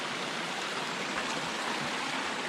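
A stream in Baxter State Park flows steadily across a wet rock slab, giving a close, continuous rushing wash of water with no voices.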